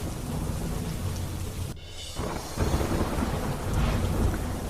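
Heavy rain pours steadily in Mumbai with a rumble of thunder, a loud, dense, continuous roar and a brief dip partway through before the downpour surges again.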